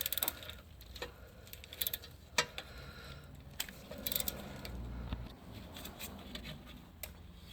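A wrench ratchets and clicks against a tight 15mm locking nut on a 2013-2016 Ford Escape 1.6L turbo engine while the crank is held, giving close, irregular metallic clicks and clunks in short bursts with no speech.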